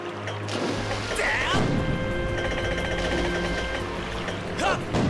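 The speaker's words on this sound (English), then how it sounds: "keep pounding it with the cannon" A ship's cannon fires in the video game The Legend of Zelda: Skyward Sword, two heavy booming blasts about three seconds apart over a steady game soundtrack.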